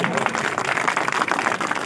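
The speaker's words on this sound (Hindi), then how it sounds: "ये बहुत कमजोर ताली है।" Thin, half-hearted clapping from a small gathering at a live public meeting: a soft, uneven patter that lasts under two seconds and stays faint throughout.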